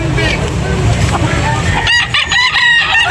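A rooster crows loudly and close at a chicken sale in Carbon, Cebu City, one drawn-out crow rising over background chatter and market noise, with scattered clucks near the end.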